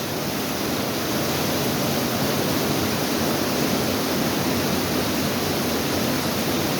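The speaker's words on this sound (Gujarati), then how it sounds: "હાય જુઓ તોફાની વરસાદ" Heavy stormy rain pouring in Udhna, Surat, Gujarat, a dense, steady broadband roar with no letup, loud and close, and no voices.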